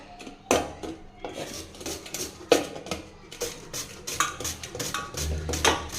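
Beetroot is grated on a metal grater in irregular, close, scratchy rasping strokes, some louder than others, with occasional light metallic knocks.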